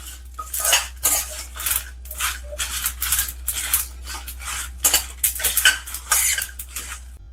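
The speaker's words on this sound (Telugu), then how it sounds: "మసాలాని బాగా వేపేసుకుందాం." Masala spices roast in a pan for homemade Kitchen King masala powder, with a metal spoon scraping and clinking against the pan in quick, irregular strokes, close and fairly loud.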